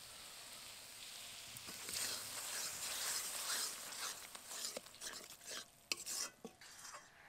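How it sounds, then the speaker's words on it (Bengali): Ground spinach goes into fried masala in a pan, bringing a soft, quiet sizzle with scraping and stirring that grows into irregular clacks and knocks of a spoon against the pan. "এবার এই বেটে রাখা পালং শাকটা আমি দিয়ে দেবো।"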